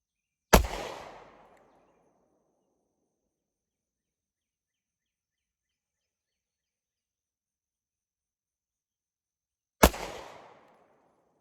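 Two sharp pistol shots from a Smith & Wesson Shield Plus 2.0 with a Holosun sight ring out about nine seconds apart, each a loud crack decaying quickly into silence.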